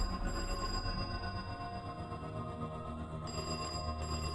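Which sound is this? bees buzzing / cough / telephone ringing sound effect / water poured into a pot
telephone ringing sound effect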